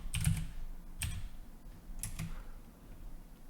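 Typing on a computer keyboard during a Python dictionaries lesson, three short bursts of soft clustered keystrokes about a second apart, close and moderately quiet, with no speech.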